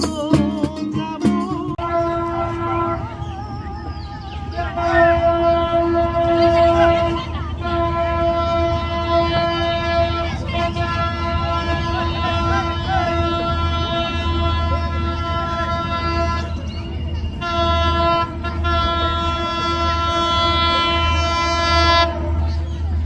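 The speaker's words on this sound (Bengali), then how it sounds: "লম্বা একটা হুইসেল দিয়ে জানান দিতেছে যে সে আসতেছে, তাই লাইন সামনে থেকে ক্লিয়ার করতে।" The Madhumati Express intercity train sounds a long, loud sustained horn as it arrives on a rainy day, the tone held for many seconds over the rumble of the moving train.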